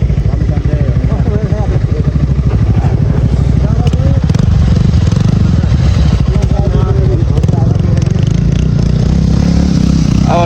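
Motorcycle climbing uphill on a rural ridge road in Nepal, its engine droning loudly and continuously close by with clattering over rough ground while someone talks over it.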